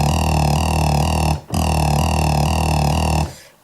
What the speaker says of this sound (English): So I recorded like a very basic LFO already on the fatty that sounds like this.